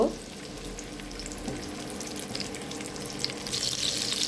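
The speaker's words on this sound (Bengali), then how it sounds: "এখন পেঁয়াজগুলোকে আমি একদম বাদামি কালার করে নেব" Chopped onions sizzle and fry in a small amount of oil, a steady close crackling hiss running alone through the moment with slight stirring sounds and a brighter spatter toward the end.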